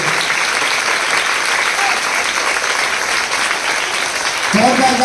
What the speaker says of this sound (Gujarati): જોરદાર તાળી એકદમ